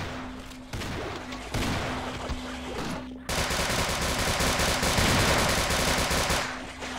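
Assault rifle (AR-15) fire in the Half-Life Sven Co-op game, rapid automatic bursts that build into sustained loud gunfire lasting several seconds.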